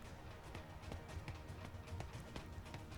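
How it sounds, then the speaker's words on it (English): A child runs on stone tiles, quick and steady footfalls at a fairly even pace, moderately faint against a low background hum in a narrated, voice-acted fantasy story. "she could hear every footstep her brother made on the stone tiles"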